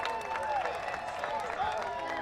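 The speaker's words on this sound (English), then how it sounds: "Perhaps a sarcastic round of applause as well after that" Scattered crowd applause at an amateur baseball doubleheader game, heard under a commentator's ongoing talk.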